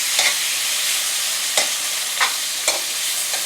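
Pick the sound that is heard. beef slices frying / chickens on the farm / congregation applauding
beef slices frying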